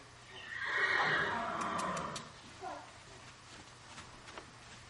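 A mustang horse neighs loudly and close by for about a second and a half, a strong whinny that fades out, followed by a few soft snorts and faint hoof sounds in a quiet outdoor setting.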